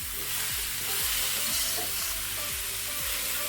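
Spices frying in a pan with galangal, tomato and bay leaves, stirred slowly with a spoon, a loud, steady sizzle broken by rhythmic scraping strokes about twice a second.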